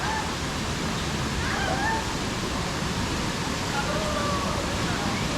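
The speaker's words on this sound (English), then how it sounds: "Boy, and I hear water running down below." Water runs down below a path in an enchanted garden in Brisbane, Queensland, a constant soft rushing hiss like a distant stream or small waterfall, steady throughout.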